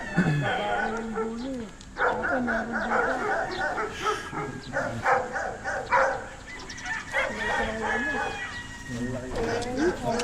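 An imported dog on a farm barks, yips and whimpers in repeated bursts close by. Someone talks over much of the barking.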